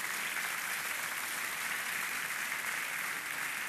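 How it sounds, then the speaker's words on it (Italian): Steady audience applause from a festival crowd at the Festival del Negroamaro 2014, even and sustained throughout with no talk over it. "Quindi un applauso bravi, da parte del pubblico di Cellino, grazie."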